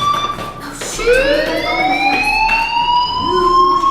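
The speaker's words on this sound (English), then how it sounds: "Hey, do you hear that fire alarm? That means you should be outside." A school fire alarm rings in the video game Life is Strange: a loud, steady electronic tone that keeps sweeping upward in pitch, sounding continuously with no talk over it.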